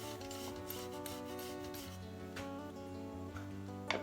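Steady, quiet rubbing and rasping of abrasive grit buffing wooden captive rings, continuous and close, with a faint hum underneath.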